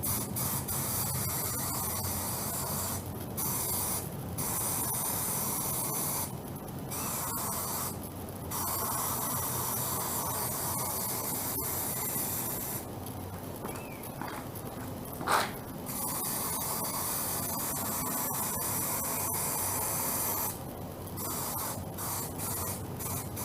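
Aerosol adhesive sprayed onto new leather material for an Acura TL arm rest cover, several bursts of broad hissing spray with short pauses, close and steady over a faint background hum.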